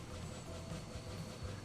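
Cargo train wagons rolling along the track in Transport Fever 2, a steady rumbling drone with faint rhythmic clatter, close and continuous.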